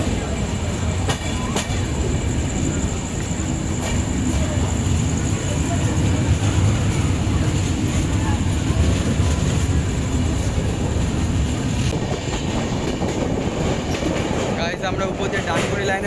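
Uttar Banga Express passenger train running over tracks near the Dankuni line crossing, a steady loud rumble with rhythmic wheel clatter and rail noise throughout, heard from inside the coach.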